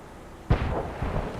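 Enemy artillery shell landing in the World of Tanks video game: one sharp, heavy explosive boom with a rumbling tail and a smaller thud after, mid-distance over a quiet background.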